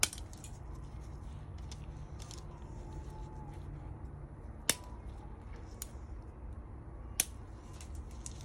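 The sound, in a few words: snipping off a button piece with cutters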